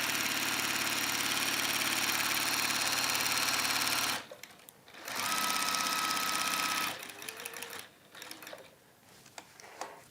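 Sewing machine stitching a waxed warmer, a loud rapid mechanical whir running steadily for about four seconds, pausing, running again, then giving way to quieter handling clicks and rustles.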